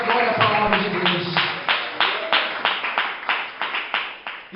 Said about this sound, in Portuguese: adore o Senhor com palmas bem forte e alegre